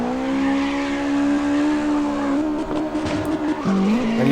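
A car in the CarX Drift Racing game drifts with a loud sustained tire squeal over a droning engine, the squeal wavering and breaking up toward the end.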